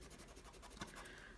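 Pastels scribbled quickly across paper, giving a faint, continuous rhythmic scratching and rubbing with one slightly sharper stroke midway.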